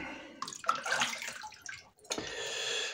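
Tap water splashes in a sink as a face is washed during a wet shave, a close, faint, uneven rush with a brief lull before resuming steadily.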